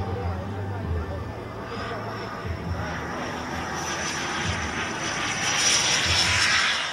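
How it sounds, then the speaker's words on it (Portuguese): A model Viper Jet aircraft powered by a miniature jet turbine whooshes with a steady broad roar that swells toward the end, heard outdoors at a model aircraft event under crowd chatter and a voice talking. "Essa aeronave é um jato Viper Jet, ele usa uma turbina em miniatura, é realmente uma turbina a reação"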